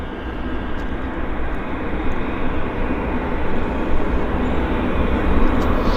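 WestJet airliner on the Honolulu flight passing near Vancouver airport, a continuous broad jet engine roar that holds steady and swells slightly louder toward the end, with no talking.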